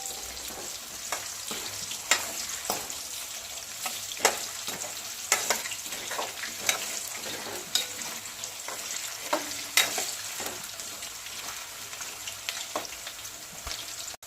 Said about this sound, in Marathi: थोडा फ्राय करून घ्यायचं बरं का बटाट्याला। लालसर होईपर्यंत फ्राय करायचं।